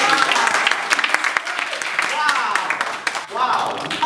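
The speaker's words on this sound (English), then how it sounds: "Give them a round of applause." Audience applause at a Toastmasters club meeting, a steady patter of many hands clapping close by for several seconds, with scattered voices mixed in.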